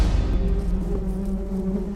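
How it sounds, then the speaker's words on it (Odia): A swarm of bees chasing, heard as a dense, steady buzzing drone that stays loud and close for the whole moment, with no talk over it. "ଆରେ ମହୁମାଛି ଗୁଡା ଗୋଡାଇଲେ"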